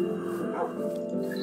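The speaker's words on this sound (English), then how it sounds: "You seriously tamed a dog." A tamed dog in the Minecraft video game gives short yips and whimpers over a steady, droning game soundtrack, with faint background sound and no voices on top.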